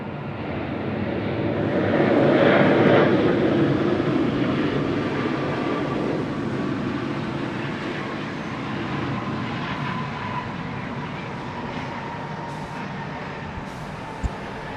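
A large jet airliner taxiing at Sydney Airport in heavy rain, a steady broad engine roar that swells early and then holds as a continuous distant rumble, with no talk.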